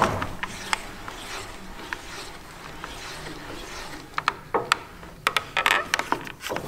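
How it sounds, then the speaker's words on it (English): A spindle moulder's tilt wheel being unlocked and turned: faint mechanical ticks and clunks come first, then a burst of sharp, irregular ratcheting clicks and knocks toward the end, close by, with no talking. "Just going to unlock it. turn this wheel."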